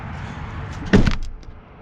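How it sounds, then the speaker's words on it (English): Door of a Monte Carlo SS car being shut, a single close thud with a brief rattle after a quiet idle-like background, no talk. "Bet it does if I shut the door."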